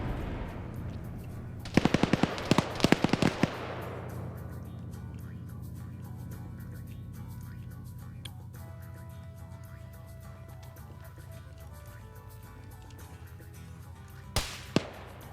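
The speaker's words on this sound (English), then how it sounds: "I think that was Red Andre shooting at him." Gunfire in a video game match, a sharp burst of rapid shots early on and a couple of louder cracks near the end, over a low steady rumble and faint background sounds.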